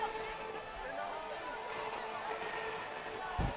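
Lively basketball arena crowd during a heated game with ejections and a technical foul, a steady wash of chatter and cheering from many fans throughout, with a brief louder swell near the end.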